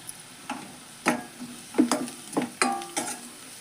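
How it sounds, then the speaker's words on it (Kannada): Homemade masala spice powder fries in oil for a potato gravy while a spoon stirs it, giving a low sizzle under sharp scraping strokes that arrive in irregular bursts close to the pan. "ಎಣ್ಣೆ ಒಳಗೆ ಫ್ರೈ ಆಗಲಿವ"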